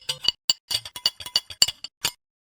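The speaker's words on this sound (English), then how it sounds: "Add all the ingredients, pickles, mayonnaise, mustard, parsley in a bowl and stir well." A spoon stirs pickles, mayonnaise, mustard and parsley in a small bowl. The result is a quick, irregular series of sharp clinks and taps that is close and crisp, with silence between the strokes.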